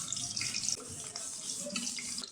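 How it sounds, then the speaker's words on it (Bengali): Chopped onion and green chili hitting hot oil in a pan for a shing fish and vegetable curry, a loud, dense hiss and sizzle that runs continuously throughout with no voices. "পেঁয়াজ ভালো করে ভেজে নেব"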